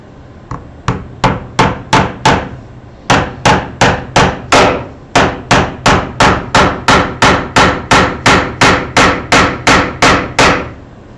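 Repeated hammer strikes drive nails into wooden table parts, loud sharp blows falling in quick steady bursts with short pauses between sets, close by and with no talking.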